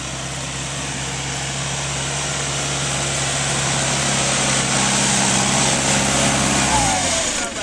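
A TD 75 tractor engine pulls a 4-furrow sprung plough, its steady drone loud and close and rising slightly in the second half before the pitch shifts near the end. Voices talk over it.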